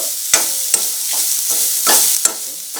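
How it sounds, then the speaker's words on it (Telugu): Ground coconut and ginger paste frying lightly in a pan, a close sizzle broken by several sharp spatula scrapes and stirs in quick succession. "కొబ్బరి అల్లం ఇవన్నీ కూడా వేసేసుకోవాలి వేసేసుకుని ఇందులో ఫ్రై అవనివ్వాలి లైట్గా"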